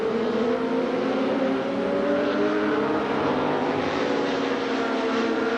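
Superbike motorcycles racing and accelerating at a 2004 Korean road race round: a loud, continuous engine roar with layered droning tones that hold steady and blend together throughout.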